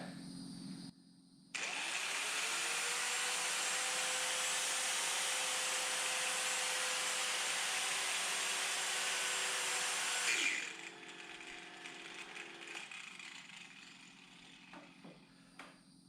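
A power tool motor burning up whines steadily at high speed for several seconds, then cuts out, leaving a rougher, sputtering mechanical rattle.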